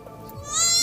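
Newborn goat kids bleat once in a short, rising cry, close and fairly loud, in a rural village setting.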